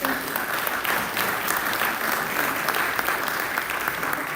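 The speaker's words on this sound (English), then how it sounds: "Let's give them another round of applause." A room of listeners at a Rotary club meeting in Norman gives a steady round of applause, even and moderately loud with dense clapping and no voices on top.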